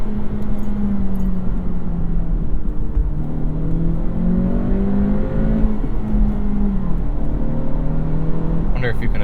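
A 2023 Acura Integra engine rises and falls through the revs with a smooth, synthetic-sounding hum from its artificial engine sound, steady and close, with no talking.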